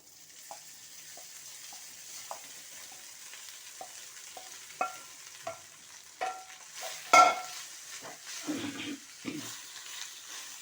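Cooked rice is tipped into a frying pan and stirred, producing a quiet background sizzle with intermittent spatula knocks and scrapes and one sharp clang midway.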